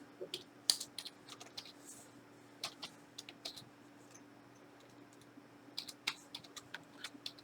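Typing on a computer keyboard: irregular clusters of quiet key clicks with short pauses between them, close and soft over a faint steady hum.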